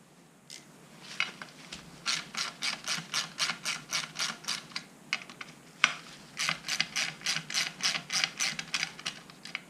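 Ratchet with an 8mm socket turning lock nuts off a 2018 Indian Scout Bobber motorcycle, bursts of rapid close clicking repeated in quick strokes with brief pauses between.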